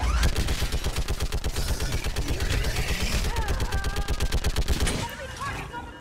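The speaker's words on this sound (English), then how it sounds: "Yeah, I'm supposed to use this stupid gun." A mounted gun in the video game Mass Effect 3 fires a long, steady, rapid stream of loud shots for about five seconds, then stops, leaving fainter combat noise behind.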